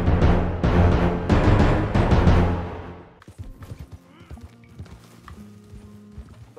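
Horse hooves in Red Dead Redemption thud in a fast galloping rhythm, loud and close for a few seconds before fading to softer clopping under in-game music.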